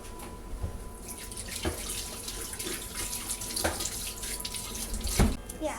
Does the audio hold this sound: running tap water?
yes